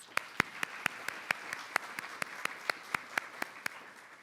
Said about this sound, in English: I'd just like to have one more round of applause for 2 really excellent papers